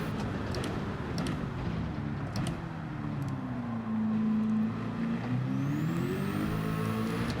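A race car engine in Gran Turismo 7, driven with manual gears, revs and shifts through gears, pitch dropping then climbing again, loud and steady with a faint whine above.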